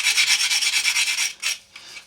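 Sanding stick rubbing back and forth on a plastic scale model, a close, steady rasping stroke repeated rapidly for over a second, then a couple of shorter separate scrubs.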